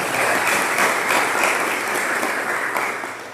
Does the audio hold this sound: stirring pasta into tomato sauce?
no